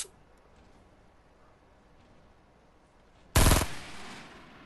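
Fortnite gunfire: a single sharp, loud shot cracks suddenly after a long quiet stretch and fades with a short tail. Faint background noise comes before it.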